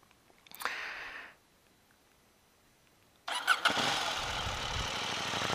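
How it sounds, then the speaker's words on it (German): A KTM 790 Duke motorcycle engine fires up in a brief burst, falls silent, then roars into a loud, steady run close by. "es ist unglaublich, was für einen geilen Klang dieses Motorrad hat"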